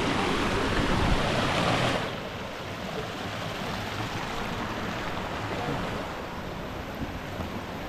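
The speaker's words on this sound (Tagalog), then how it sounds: "So, andito kami sa ilog na." The Wiwit river in Barangay Daine 2, Indang, Cavite rushes along outdoors, a broad steady roar that is loudest at first and then settles slightly softer, with wind buffeting the microphone.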